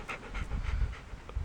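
A dog panting steadily during a canoe crossing near Waldron Island in the Inside Passage, quick rhythmic breaths close by over low wind and water rumble, with no talk.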